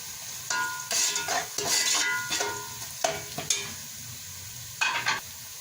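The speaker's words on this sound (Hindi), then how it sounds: "अब इसमें जाएंगे हमारे सारे सूखे मसाले। एक मिनट के लिए इसकी भुनाई करेंगे" Dry spices crackle and sizzle in a hot pan, with several bursts of stirring and scraping over a steady low frying hiss.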